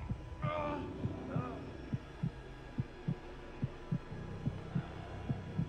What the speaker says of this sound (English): With this heartbeat and everything